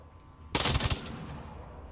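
A short, loud burst of fully automatic fire from a Vector submachine gun in Ghost Recon Breakpoint lasts under half a second, followed by a lingering echo and faint ambience.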